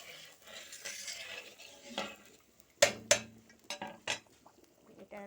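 Cooked katla fish lifted from a pan in a home kitchen: a few sharp metal clinks of utensil on pan, two loud close strikes near the middle followed by smaller scrapes and knocks over a faint background hiss, no talking.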